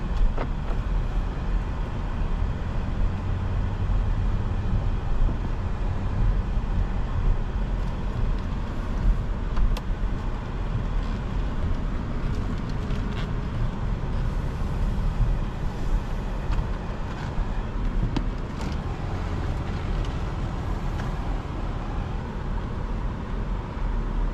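A 2023 BMW X7 xDrive40i driving in sport mode, giving a steady, continuous low engine and road rumble with wind noise throughout, no talking.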